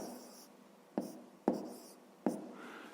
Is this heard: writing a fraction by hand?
yes